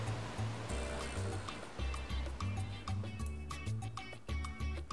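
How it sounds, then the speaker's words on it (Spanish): A waterfall pours with a steady, full rushing wash beneath prominent background music that plays throughout. "Me gusta el sonido de la cascada."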